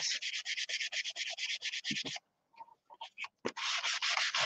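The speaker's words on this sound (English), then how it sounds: "the reason why I'm sanding it a little bit is just to try to get some of the shiny off of it" Rapid rhythmic sanding strokes rub back and forth over a painted piece, a short pause with a few scrapes, then the quick sanding resumes, close and fairly loud.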